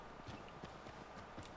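Horse hooves clip-clop in Assassin's Creed 3, a steady walking rhythm of soft, close hoof falls over faint background ambience, with no talking.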